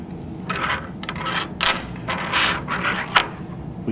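A nut being screwed by hand onto the injection port fitting of a Shimadzu gas chromatograph column, producing a run of close, small metallic clicks and scrapes with no talking.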